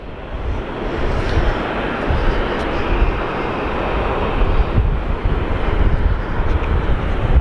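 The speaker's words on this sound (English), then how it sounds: "Look at this A380 coming to runway 25." An Airbus A380 on approach to runway 25 at Sydney Airport gives a loud, broad jet roar that stays strong and steady, with gusting wind noise and no talk.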